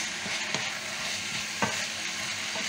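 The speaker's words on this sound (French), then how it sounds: "je vais mettre mes tomates. Et on va laisser mijoter comme ça." Tomatoes simmering and sizzling in a pan for stuffed cannelloni, a steady hiss with a couple of brief utensil scrapes, close and moderately quiet, no talking.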